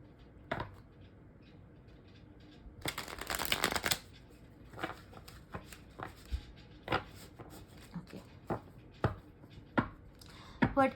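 A tarot card deck, a Poesis deck, is shuffled once in a dense rustling burst, then single cards are snapped and tapped in a run of crisp clicks, close and quiet.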